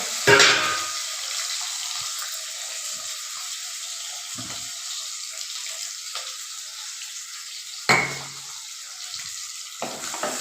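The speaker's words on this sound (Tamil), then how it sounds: "நல்லா வதங்கட்டு வெங்காயம்" Chopped small onions sauté in a hot pan, a soft steady sizzle with occasional louder bursts of stirring, close and alone.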